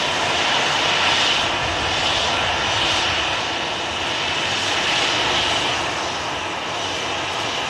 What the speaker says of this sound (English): Lots of planes on the taxi out